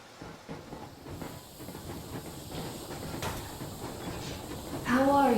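A steam train rolls along in the video game Metro Exodus, giving a steady broadband rumble and hiss that swells louder near the end as a voice speaks over it.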